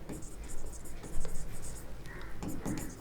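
Marker or chalk scratching on a board during a lecture, quick strokes and taps close by, with faint speech in the background.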